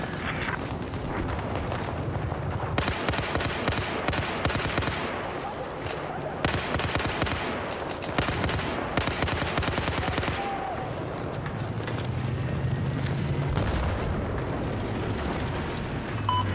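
Rapid machine gun fire from the video game Battlefield 4 on Xbox One rattles in dense, sustained bursts, with intermittent pauses and heavy overlapping battle noise throughout.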